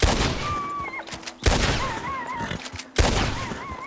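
Three loud gunshots from a firearm in Red Dead Redemption 2, evenly spaced about a second and a half apart, each a sharp crack that rings out, with whistling bird-like tones and faint chatter between them.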